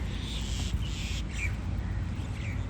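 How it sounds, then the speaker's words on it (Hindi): Crows call out in the open air near Jeddah, a few rough caws rising over a constant low rumble of wind or traffic, moderately distant and without any voices. "कौवे घूम रहे हैं, कौवे।"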